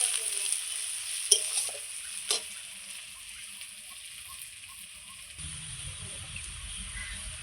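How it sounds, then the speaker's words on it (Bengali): Onions and bay leaf frying in hot oil, a steady soft sizzle with a couple of brief clinks of a utensil stirring in the pan, quiet and close. "বন্ধুরা ফোড়নে পেঁয়াজ আর তেজপাতা দিয়ে দিয়েছি। লাল লাল করে পেঁয়াজটা ভেজে নেব।"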